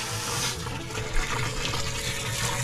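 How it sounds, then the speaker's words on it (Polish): A strong, loud stream of water sprays steadily and continuously at close range, a broad, dense hiss with only a slight surge partway through. "Ja takim silnym strumieniem wody postaram się jeszcze rozbić"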